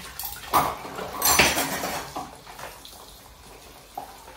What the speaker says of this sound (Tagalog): Yun lang naman yung hugasan ko, 2 plato.